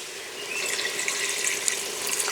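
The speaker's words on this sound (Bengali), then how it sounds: "অল্প পরিমাণে একটু জল দেব।" Water poured into chicken curry with jackfruit cooking in a clay pot, a steady close splashing and trickling that runs without a break.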